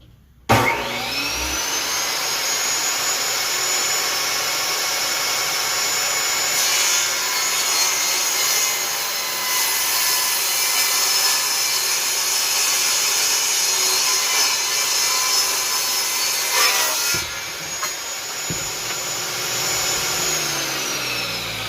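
A power saw cuts through a wooden board for a drill holder and charging station, a steady, loud whine that holds for about sixteen seconds and then spins down, followed by a few brief clatters.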